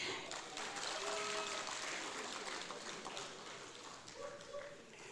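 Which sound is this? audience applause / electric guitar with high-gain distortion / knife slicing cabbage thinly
audience applause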